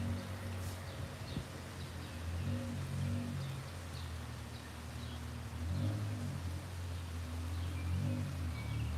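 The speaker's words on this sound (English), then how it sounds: "Ooh, it's raining out here." Steady rain falling outdoors, a constant dense hiss with low rumbling underneath, heard up close throughout without any talk.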